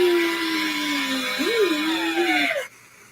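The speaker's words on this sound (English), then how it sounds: "Now I'm going to take this power drill, this drill bit, 6 inches" A power drill fitted with a 6-inch bit whines loudly and steadily up close, its pitch dipping and wavering before the motor cuts off abruptly into near silence.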